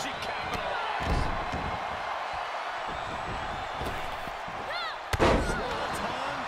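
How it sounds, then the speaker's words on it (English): A loud wrestling slam in WWE 2K22 during a table match, with scattered impacts and a sharp heavy crash near the end, over crowd noise and ongoing commentary. "There are a few things more satisfying than finally hearing a superstar go through a table."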